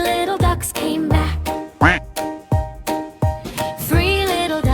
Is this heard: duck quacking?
yes